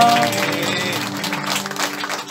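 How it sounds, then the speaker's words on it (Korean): A church congregation claps for several seconds during a worship service, a dense patter mixed with sustained musical tones. "찬송받게 합당하신 주님께 영광의 박수를 드리겠습니다"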